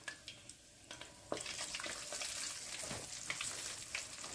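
Chicken pieces sizzling in hot oil in a pan, a quiet crackling fry with small pops and bubbling bursts that swell as more pieces go in, no voices.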